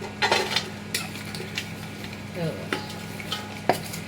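Jaggery tipped into melted ghee in a pan while making sesame laddoos, giving scattered stirring scrapes, clinks of a spoon against the pan and a soft sizzle, with several sharp taps, all fairly close and quiet.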